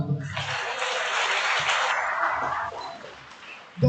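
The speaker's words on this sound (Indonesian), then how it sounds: "Tepuk tangan itu." Audience applause at an outdoor combined assembly, a burst of clapping that swells quickly, holds for a couple of seconds, then thins out and fades, moderately distant.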